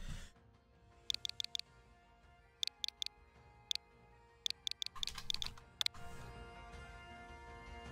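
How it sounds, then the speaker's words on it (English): Typing on a computer keyboard during a Pokemon Shield session on Nintendo Switch: quiet, crisp key clicks in short bursts of three or four taps, separated by pauses, over a faint steady background hum. "Oh, I can just type this."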